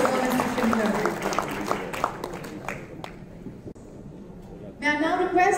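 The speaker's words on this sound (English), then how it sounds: "can we have a huge round of applause for General Bakshi and also for Mr. Shankar" An audience at a hosted corporate event applauds two honoured guests, brisk clapping that thins out midway before a fresh burst at the end, with a voice talking over part of it.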